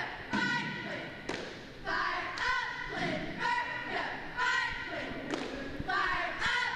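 High school cheerleaders chanting and shouting in unison at a football kickoff pep rally, rhythmic rising cheers with claps and thumps, fairly distant and echoing in a large space.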